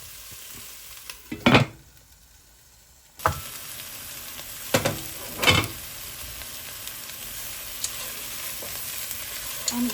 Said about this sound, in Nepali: अनि यसलाई छोप्दै यसलाई 4-5 मिनेट जति मजाले छोप्दै चलाउँदै भुट्दै गर्नुपर्छ